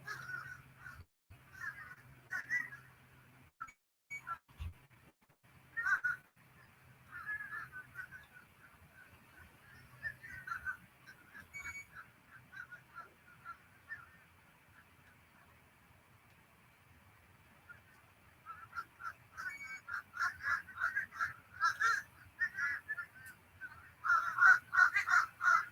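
Crows caw repeatedly outdoors, harsh calls coming in scattered bursts at moderate distance, sparse at first and then growing more frequent and louder toward the end.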